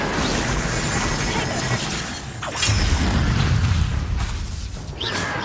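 The Incendio fire spell bursts out in Hogwarts Legacy on PS5 Pro, a loud roaring whoosh of flame with crackling pops layered over game music and effects, dense and continuous.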